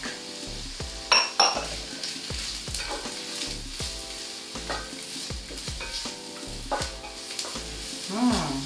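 Garlic sizzles in a pan for Filipino Bicol Express, a continuous close crackle broken by repeated spatula scrapes and stirs, with a faint clink of metal near the end and no talking.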